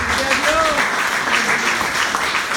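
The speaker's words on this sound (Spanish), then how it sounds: "Den un aplauso al Rey de Reyes" A church congregation applauds in worship, a steady wash of clapping that runs throughout, with a raised voice and some tonal vocal sounds carrying over the top.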